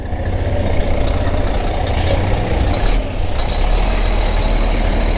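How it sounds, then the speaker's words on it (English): A big truck on the road near a turn leading to a stop, its heavy engine rumble loud and steady throughout, close by and dominating the sound, with no one speaking. "And there's a big truck coming."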